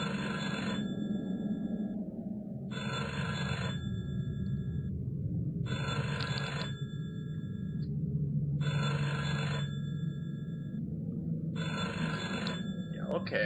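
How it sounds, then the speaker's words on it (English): A telephone rings in the video game Cellar Door, five evenly spaced electronic bursts about two and a half seconds apart over a constant low droning background. "Let's pick up the phone."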